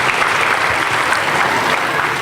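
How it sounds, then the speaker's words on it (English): An audience at a school annual day breaks into sustained applause, a loud dense wash of many hands clapping evenly with no talk over it. "Give a big round of applause,"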